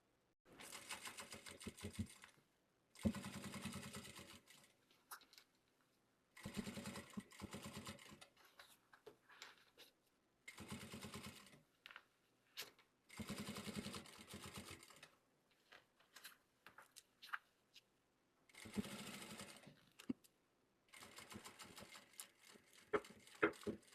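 Sewing machine stitching a seam along a fabric lining on a small zippered cosmetic pouch, running in bursts of steady rapid stitching separated by short pauses, close and clear with no talk.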